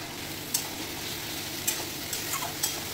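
Taro frying in a pan with turmeric water poured in, a steady hiss of sizzling broken by a few sharp ticks of the spatula against the pan as it is stirred, no voices.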